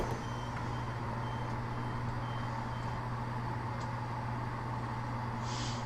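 A steady continuous warning tone sounds in the cab of a Class 171 Southern train in Train Simulator 2016, a sustained electronic hum held loud and unchanging for several seconds.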